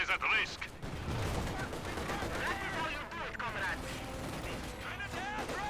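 A T-34 tank opening fire in Company of Heroes 2, a loud blast followed by rumbling battle noise, mechanical clatter and scattered distant shots under ongoing voices and radio chatter.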